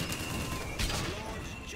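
A single gunshot headshot in BioShock Infinite cracks out near the middle of a short stretch of steady game noise, with a voice talking faintly underneath.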